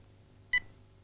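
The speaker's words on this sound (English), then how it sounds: "To turn on or off, hold it down until it beeps." A single short electronic beep from an Ericsson GH198 mobile phone's power button, clear and bright, standing alone over a low steady hum.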